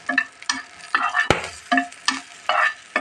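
A pan of pumpkin greens and fish for a mashed bhorta sizzles softly while a utensil stirs and scrapes in short, rhythmic bursts, with one sharp clack in the middle, close and fairly quiet.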